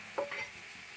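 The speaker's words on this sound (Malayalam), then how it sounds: "എല്ലാതും മിക്സ് ആക്കിയിട്ട് നന്നായിട്ട് ഫ്രൈ ആക്കട്ടെ. നമ്മൾ വെച്ച സവാളയുടെ കൂട്ടൊക്കെ നന്നായിട്ട് ഫ്രൈ ആയി." An onion masala mixture fries quietly in a pan, a soft steady sizzle with a couple of brief spoon clicks near the start.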